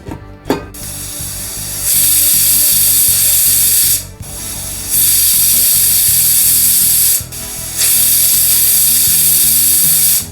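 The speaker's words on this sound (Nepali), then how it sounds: "अब यो सबै राखेर मिक्स गरिसकेपछि चाहिँ अब आफ्नो कुकरमा कति सिटीमा पाक्छ गेडागुडीहरू त्यो अनुसारले पकाउँ।" A pressure cooker steaming mixed beans for kwati lets out three long, loud, close bursts of hissing steam separated by brief pauses, each starting and stopping sharply over a low rattling hum.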